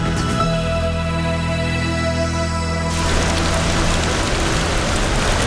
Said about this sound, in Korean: 경기 초반에 비가 내리기 시작합니다.